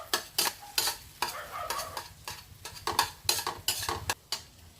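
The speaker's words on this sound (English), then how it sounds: "Frying egg is very easy." Egg frying in oil in a pan, with a steady sizzle broken by repeated sharp scraping and stirring clatters of a utensil against the pan, close and fairly loud, no talking.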